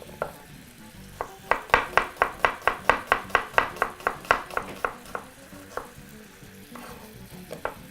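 Food frying in a pan as its liquid cooks off, with a soft, steady sizzle under a run of sharp, regular knocks and taps about three per second that bunch up mid-clip, then thin out.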